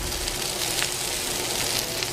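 Philly steak meat and onions sizzle on a flat griddle in a dense, even hiss that holds steady and fairly loud from start to finish, with no talking.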